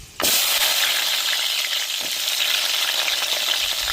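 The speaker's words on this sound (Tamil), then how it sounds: "சின்ன வெங்காயம் சேர்த்துக்கிறோம்" Small onions dropped into hot oil with fenugreek seeds for Tamil vatha kulambu, a sudden loud, steady sizzle that continues unbroken with no talking.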